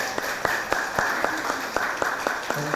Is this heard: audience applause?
yes